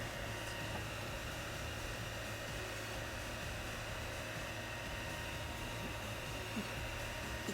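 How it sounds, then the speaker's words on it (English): A hair dryer blows steadily at close range over epoxy on a tabletop, a constant broadband whoosh with a low hum underneath, unbroken throughout. "Taking the blow dryer and just making sure that those colors are starting to blend well"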